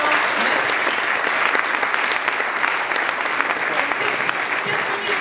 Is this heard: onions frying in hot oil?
no